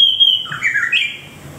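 A bird gives a loud, close squawk, a single harsh call with a rising and falling pitch lasting about a second, then fades into quiet.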